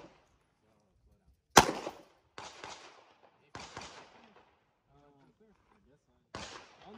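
Handgun shots at a USPSA shooting match crack out one at a time: a loud first report, then several softer shots spaced apart, with a brief voice in between.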